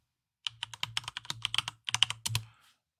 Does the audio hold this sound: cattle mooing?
no